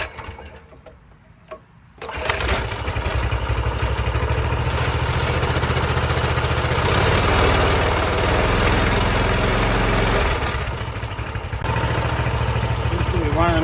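A Honda CT200 motorbike engine idles steadily on choke with a steady buzzing drone after a brief quiet start, holding loud and constant with a slight dip near the end.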